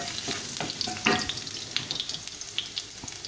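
Chopped garlic sizzling in oil in a pan while being stirred, with a crackling frying hiss and repeated scraping stir clicks throughout.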